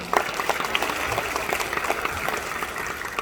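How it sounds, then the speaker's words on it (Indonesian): An audience at an Indonesian Chinese community association gathering claps steadily for the chairman, dense overlapping hand claps filling the room at moderate loudness without pause. "Tepuk tangan buat Ketua Umum."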